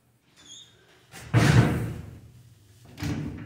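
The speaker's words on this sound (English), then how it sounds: "See if the door's locked." A door is tried and found locked in a building hallway, a couple of dull rattling thumps close by, the first louder and the second softer, with quiet room tone between them.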